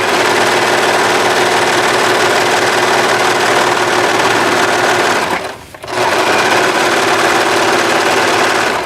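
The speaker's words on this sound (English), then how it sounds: "then we'll get this serged really quick" A serger overlock sewing machine runs loud and close while finishing a seam, a fast steady mechanical whir that briefly stops around the middle before starting up again.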